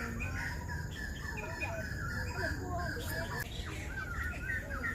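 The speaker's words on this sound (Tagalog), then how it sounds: "Ang daming ibon." Many birds chirp and call together in Telok Blanga Hill Park, a busy, layered chorus of tweets over a steady outdoor background that runs the whole time.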